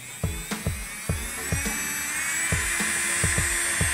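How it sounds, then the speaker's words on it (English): A high-pitched electric nail drill whines steadily at high speed, with a series of short low thumps recurring irregularly beneath the whine. "I think it sounds just as loud as any other drill."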